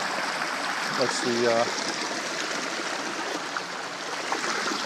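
Water runs steadily from two hoses into a farm water tank, a continuous close rushing and trickling, with a brief spoken word over it early on.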